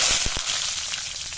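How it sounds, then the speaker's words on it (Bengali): Whole cumin seeds and green chilli frying in hot oil give a loud, close, continuous sizzle with a few sharp pops at the start. "তেলটা গরম হয়ে গেছে, গোটা জিরাটা আমি দিয়ে দিচ্ছি। এরপরে কাঁচা লঙ্কাটা দিয়ে দিচ্ছি,"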